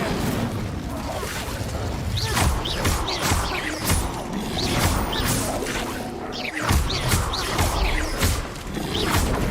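Spell effects from the Incendio fire spell in Hogwarts Legacy, dense whooshing bursts and crashes of flame and impact in quick succession, loud and continuous over the stretch.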